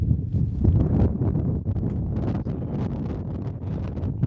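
Strong, gusty wind buffets the microphone in a continuous low roar with uneven surges and no voices.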